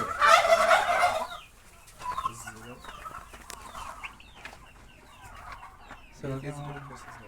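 Turkeys gobbling and chickens clucking at close range on a small poultry farm, with a loud burst of gobbling at the start and scattered bird calls and crowing after.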